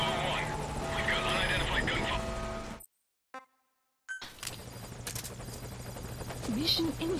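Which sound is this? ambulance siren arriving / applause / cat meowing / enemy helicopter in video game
enemy helicopter in video game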